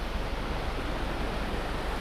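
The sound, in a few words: river water rushing through rocks under a bridge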